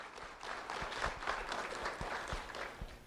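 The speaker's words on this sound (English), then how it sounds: "Round of applause for Alex Agosto." A faint, brief round of applause greets student Alex Agosto of River Hall Elementary School at a recognition event, with scattered hand claps over a soft crowd murmur.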